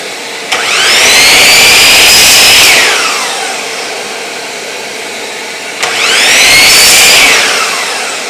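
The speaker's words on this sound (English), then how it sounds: "turn our vacuum on, just line it up to there." A vacuum switches on twice, each time spinning up with a sharp start into a loud, rising whine, holding for a couple of seconds, then dropping back to a lower steady hum.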